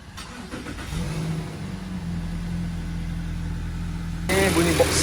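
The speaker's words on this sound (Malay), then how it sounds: "Kita start engine, running, kita tengok bawah." A car's boxer engine starts and settles into a steady, smooth idle during a basic service check, a low continuous hum that rises slightly toward the end.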